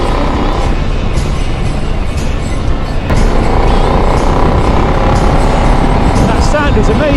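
A KTM 890 Adventure R motorcycle engine and exhaust roaring loud and steady throughout, with a brief dip then a slightly harder surge midway, close and dominant with no talk.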